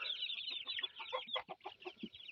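Young chicks and chickens clucking and peeping close by, a steady run of short chirps and soft clucks over about two seconds, some notes louder and lower, with no talk.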